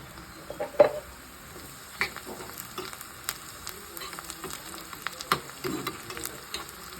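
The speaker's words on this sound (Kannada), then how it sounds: "ಈ ಕಡೆ ಈರುಳ್ಳಿ ಚೆನ್ನಾಗಿ ಫ್ರೈ ಆಗ್ತದೆ ತುಪ್ಪದಲ್ಲಿ" Onions and cashews frying in ghee keep up a quiet, steady sizzle, broken by scattered spatula scrapes and light clinks against the pan.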